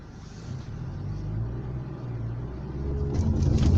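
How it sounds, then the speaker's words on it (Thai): A Honda HR-V climbing a steep forest trail near Chiang Mai with traction control engaged: a steady low engine rumble and drivetrain drone that swells slightly toward the end, close and continuous, with no talking. "โอเคระบบ traction control ได้ยินเสียงมันทำงานนะครับ"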